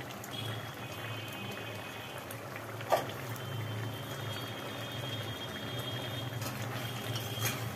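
A pot of shrimp, Malabar spinach and vegetable curry simmers with a soft, continuous bubbling hiss, faint and close, with one brief clink partway through and no talk.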